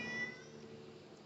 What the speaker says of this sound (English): Got the cat talking.